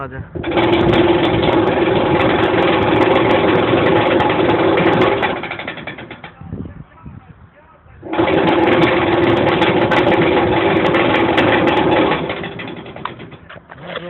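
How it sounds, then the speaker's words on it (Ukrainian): An electric motor with eccentric weights on a vibrating machine runs with a steady loud buzzing vibration, stops briefly, then starts again at the same intensity. "випробування встановленого мотора, а тобто величини ексцентриків на моторі"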